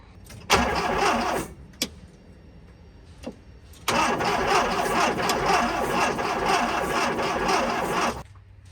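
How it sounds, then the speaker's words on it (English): The engine of an abandoned 1984 VW Vanagon cranks in a short burst, pauses with a couple of clicks, then cranks again in a long, rough, grinding run without catching. "let's see if we can at least get spark to happen and get this thing to fire"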